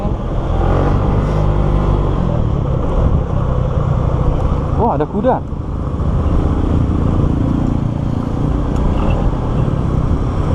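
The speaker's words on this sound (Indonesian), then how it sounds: "Nah, kita tes motornya di sini." A Suzuki Skywave 125 scooter drones steadily on a road test ride, its engine loud and continuous with road noise, while a rider speaks briefly in the middle.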